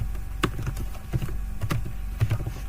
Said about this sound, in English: and I'm going to type in my name.